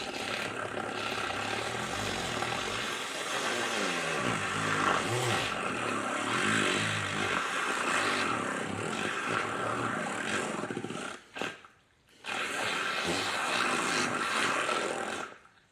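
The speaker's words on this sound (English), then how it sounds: "Then I have my little Elementi Whisk." A small Elementi electric whisk frothing matcha whirs in a continuous close motorized drone, stopping briefly near the end before whirring again.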